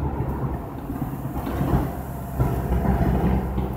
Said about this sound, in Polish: i będzie przejazd kolejowy.